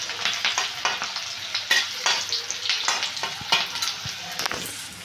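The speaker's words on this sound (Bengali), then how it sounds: "এখানে যে কেটে রাখা পেঁয়াজ আর কাঁচা লঙ্কাটা দিয়ে দিচ্ছি, দিয়ে একটু ভেজে নিচ্ছি" Chopped onion and green chili frying in hot oil in a pan, a continuous close sizzle with repeated scraping strokes of a spatula stirring, no voices.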